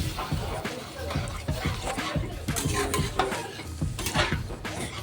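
Chickpea, potato and soya chunk curry being stirred and sautéed in a pan, with repeated scraping and clinking of the spoon against the pan over a low sizzle, close and steady throughout.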